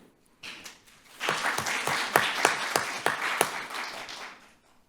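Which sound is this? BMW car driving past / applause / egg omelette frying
applause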